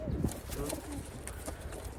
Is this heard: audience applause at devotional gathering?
no